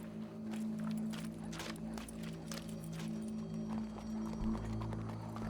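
Hooves of a horse walking with a steady clip-clop in Red Dead Redemption 2, close and fairly loud over a low steady game ambience.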